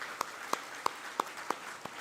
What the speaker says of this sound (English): Can we all give him a big round of applause?